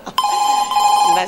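A telephone rings briefly indoors with a bright, steady electronic trill lasting about a second, close and clear, with a voice heard around it.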